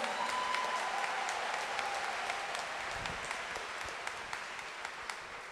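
Continuous applause from a church congregation during a homily, many hands clapping in an even, roomy wash that eases slightly toward the end, with a few sharper claps standing out.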